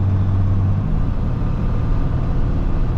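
Automatic Freightliner truck engine droning on a steep grade, a low steady rumble with a brief tonal hum at the start as the gear shifts, no voices.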